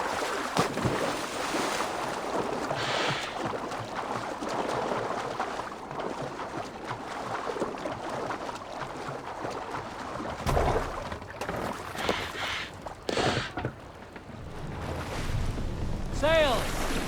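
Viking longboat sailing on open water in Assassin's Creed Valhalla, a steady rush of wind and waves against the hull, with voices calling out over it and a few louder splashes and knocks toward the end.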